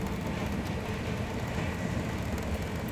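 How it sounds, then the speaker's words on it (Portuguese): Steady interior rumble of a TGV high-speed train running at about 200 km/h between Paris and St. Malo, a continuous broadband roar with no breaks and no talk. "Agora o trem deu um acelerado, tá uns 200 por hora aqui."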